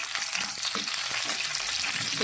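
Mustard seeds, sesame, green chili pieces and curry leaves sizzle and crackle in hot oil as a tempering is stirred, a steady dense frying hiss with small pops throughout, close and alone.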